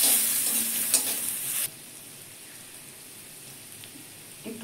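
Grated garlic hits hot oil in a pan, giving a bright, steady sizzle that sounds loud for the first second and a half and then drops to a quieter hiss with faint stirring clatter near the end.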